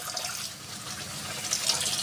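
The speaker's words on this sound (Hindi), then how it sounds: "डाल देंगे पानी थोड़ा सा" Water pours into a pan of chicken Mughlai curry, making a soft, continuous splashing rush that swells slightly toward the end, with no voices.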